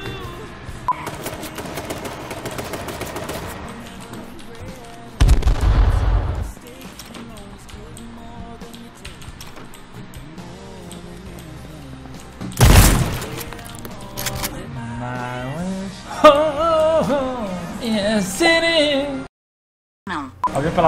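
Gunfire bursts and shattering impacts in a video game, with rapid sharp crackling volleys and loud booms, under music and talk across the clip.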